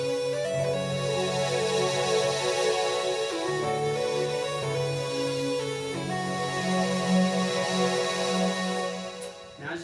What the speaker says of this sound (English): basically have a very rough beat